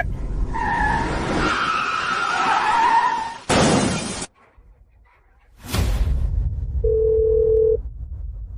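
A phone rings late at night with an incoming call, heard as one short electronic tone near the end, after loud tire screeching and car noise that cut off abruptly.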